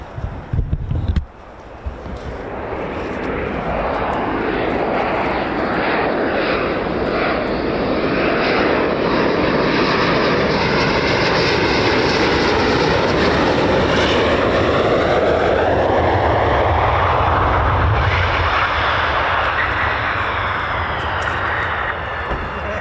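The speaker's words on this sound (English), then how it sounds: "here comes an aircraft" A P-47 fighter with a Pratt & Whitney R2800 radial engine flies past, a loud sustained roar that swells and sweeps in pitch as it approaches and recedes, with wind buffeting underneath.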